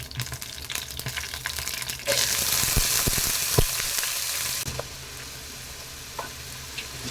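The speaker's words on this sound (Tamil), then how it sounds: "உருளைக்கிழங்கு ஆட் பண்ணிவிட்டு லேசாக வதக்கி விட்டுடலாங்க." Diced potatoes, first soaked in water, go into a hot pan for a potato fry and sauté with a steady sizzle that rises sharply, punctuated by scraping stir clicks, close and alone.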